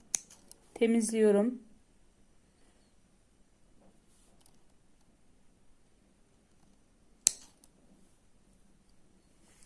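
A single crisp scissor snip trims thread in needle lace work, cutting through a quiet room, following a short spoken phrase near the start.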